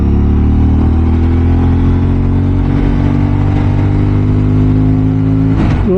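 A vehicle engine pulls hard up a steep mountain road toward Hunder and Thang in Ladakh, a loud, close, steady droning roar that shifts slightly at the end.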